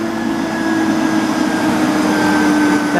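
An Allis-Chalmers electric motor running as a rotary phase converter, giving off a steady loud hum with a whooshing airflow roar and a constant tonal whine, with no speech.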